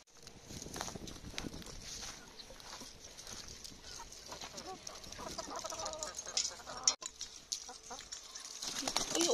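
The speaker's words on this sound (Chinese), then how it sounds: "我们这些留着去喂鸡" Chickens being fed freshwater pearl mussel innards cluck and flap faintly nearby, giving soft scattered calls and rustling over a quiet background.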